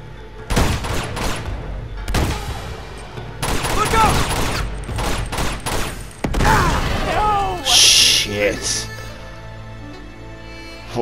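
Machine gun fire in the video game Uncharted 2: Among Thieves Remastered, loud repeated bursts and booms spread across the clip, mixed with voices.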